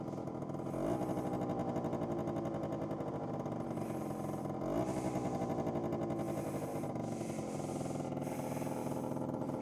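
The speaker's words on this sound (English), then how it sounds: "And the engine sounds so good, purring like a kitten." A scooter engine running steadily on a scenic mountain trail, giving a continuous buzzing drone with slight rises in pitch, with faint wind rushing over it and no speech.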